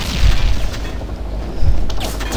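Bursts of gunfire in the shooting video game BlackFire, two heavier booming volleys standing out over a continuous loud rumble of in-game action.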